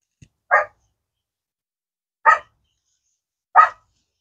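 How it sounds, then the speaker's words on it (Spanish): A dog barks three times, single sharp barks spaced irregularly over a few seconds at a house where succulents are sold, fairly close and loud with quiet between them. "ella está ladrando"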